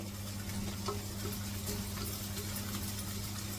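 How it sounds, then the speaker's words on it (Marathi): Onion sautéing in oil in a home kitchen pan, a soft, low continuous sizzle with a steady hum underneath and faint scattered crackles, fairly quiet throughout. "हे चांगलं परतून घेते तेलामध्ये कांदा"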